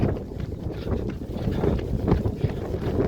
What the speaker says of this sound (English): When you get to the top of the hills, it's a little bit windy.